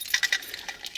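Light metallic jingling and clinking in a few quick bursts, like keys shaken on a ring, close and fairly quiet.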